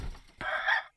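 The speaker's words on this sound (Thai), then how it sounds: "ถ้าเราพาไก่มาตรงเนี้ยครับเดี๋ยวไก่มันเข้าไปเองนะเนี่ย" A single short chicken cluck in the video game Yomawari: Night Alone, one bright squawk lasting about half a second after a brief low thump, standing alone with no talking.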